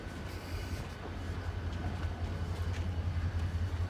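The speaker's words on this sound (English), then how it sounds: "There is some locomotive sound." A locomotive train rumbles in a steady low drone with faint rhythmic clatter, heard from a distance outdoors near a camel market close to Cairo, Egypt, and growing slightly louder over several seconds.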